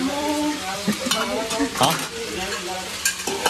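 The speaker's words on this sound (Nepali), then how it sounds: "यता खसीको मासु पाक्दैछ" Goat meat cooking in a pot for a college program meal, steady sizzling with several scraping stirs against the pot, close and moderately loud.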